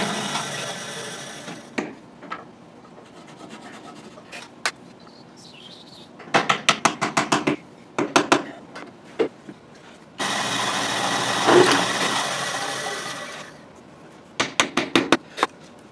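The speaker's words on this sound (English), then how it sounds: "we're going to line up the pins, we're going to drill some pin holes" A power drill bores dowel pin holes into Telecaster guitar bodies in a workshop, with short bursts of whirring and a longer sustained run, separated by quieter handling noises and clunks.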